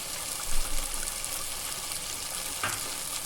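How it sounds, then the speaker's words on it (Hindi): Masala frying in oil for Hyderabadi hari mirchon ka salan, a steady close sizzle with soft stirring scrapes and a brief splash of liquid near the end. "मसाला अच्छी तरीके से भुन चुका है"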